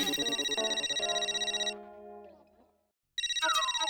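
A phone ringtone trills loudly in a repeating electronic pattern, cuts off into a short silence, then starts ringing again.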